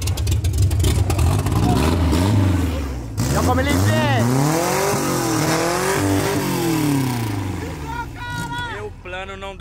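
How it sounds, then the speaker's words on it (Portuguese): A Chevette's engine runs and revs loudly throughout, rising and falling in pitch beneath excited shouting voices. "ligou o carro"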